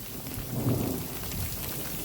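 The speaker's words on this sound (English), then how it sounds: "hear that? That's thunder." Steady rain falls on a ridgeline during the Tour Divide bike race, with a low roll of thunder swelling briefly beneath the continuous hiss, and no voices.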